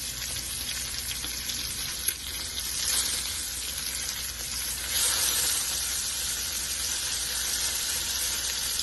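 Lamb chops sear in a frying pan, propped on their edges to crisp, giving a steady dense sizzle and crackle close up with no talking, growing slightly louder midway.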